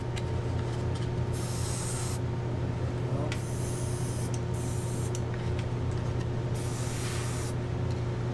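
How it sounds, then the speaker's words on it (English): Several hissing bursts of homemade super-black flat acrylic paint sprayed through a spray gun, each lasting about a second, over a steady background hum. "Let's try spraying this now."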